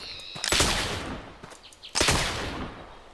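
Two sharp gunshots ring out while hunting in the Oregon Trail video game, loud blasts about one and a half seconds apart, each trailing off into a short fading echo with no talk.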